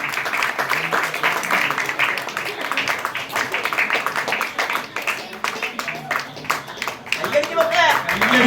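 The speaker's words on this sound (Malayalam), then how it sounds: "നമ്മളെല്ലാവരും എല്ലാവരുടെയും വലിയ ഒരു കയ്യടി" A crowd at a village panchayat gathering claps in sustained applause, a dense patter of many hands, with a voice speaking over it near the end.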